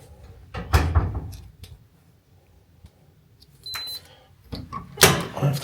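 A heavy, secure hotel corridor door in a London hotel converted from a Victorian school thuds and clunks as it opens and closes, loud close knocks and latch sounds separated by quiet stretches, with a single short electronic beep between them.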